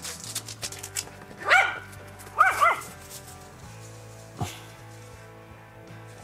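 A small dog and a large dog bark in short bursts close by, two sharp barks followed by a softer one, with faint hum underneath and no other talk.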